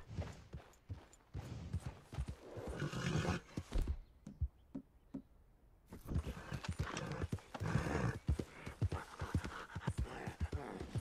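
A horse whinnies amid steady clip-clop of hooves in Red Dead Redemption 2, with a brief quieter pause midway before the hoofbeats resume close and busy.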